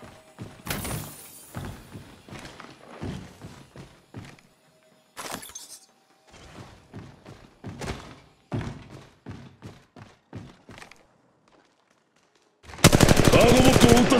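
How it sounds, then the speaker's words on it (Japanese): Gunfire in Apex Legends Mobile as a cargo bot is shot during a ranked match, scattered thumping shots and impacts with a loud dense burst of rapid fire near the end, game effects around it. "カーゴボットを撃ったぜ。"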